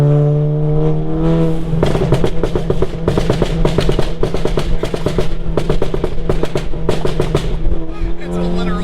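A Stage 2 tuned VW Mk7 GTI revs hard and loud at close range, its exhaust firing rapid bursts of crackling pops and bangs between throttle blips, with people reacting in the background.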